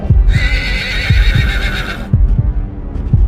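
Mongol cavalry horses in a war movie give a loud, long whinny over heavy, rhythmic hoofbeats, with galloping thuds continuing after the neigh fades.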